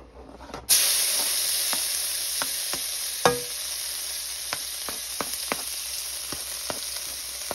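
Garlic hitting hot oil for bangus with tausi bursts into a loud, bright sizzle that settles into a steady close hiss, punctuated by occasional spatters and utensil taps, with no one talking.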